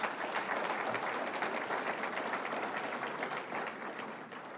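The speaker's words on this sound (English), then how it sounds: "Let's give him a round of applause." Dense applause from a large crowd at a political campaign event, steady and sustained, tapering off slightly toward the end.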